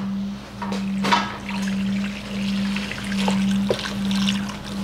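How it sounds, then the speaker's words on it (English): A cooled liquid mixture trickles and pours into yeast in a bowl for Texas Roadhouse-style rolls, a close, continuous liquid stream with a few small splashes over a steady low kitchen hum, no talking. "The mixture has cooled down, so I'm just gonna pour this into the yeast."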